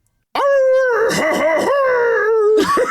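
A person imitates a werewolf howl done in a French style: one long, sustained, wavering voiced howl rising and falling in pitch, loud and close, ending with a short breathy cry.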